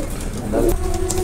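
Pigeons of show breeds such as Teddy types coo softly in a short burst at a pigeon sale, a low throaty murmur rising midway over steady background hum.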